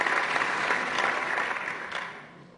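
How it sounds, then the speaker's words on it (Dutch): Applause from the council chamber after a member's oath of office, a steady round of clapping by the seated assembly that holds for a couple of seconds and then tapers off, with no speech over it. "applaus."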